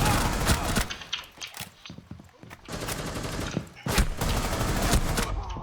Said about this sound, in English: Somebody shooting at me from behind?